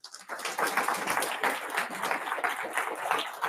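A conference audience at DConf 2019 in London applauds a speaker being introduced, producing a continuous, full wash of clapping that rises quickly and holds steady.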